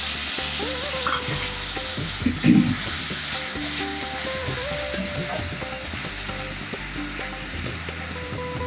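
Ginger, garlic and onion paste with chopped tomato fries loudly in a pan for chicken malai curry, a continuous sizzle with spoon scrapes and stirring knocks throughout.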